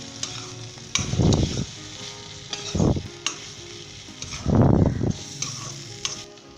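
Spicy scrambled eggs with coriander and green chilies are stirred in a karahi, three bursts of loud scraping and turning over a constant sizzle, close up and with no voices.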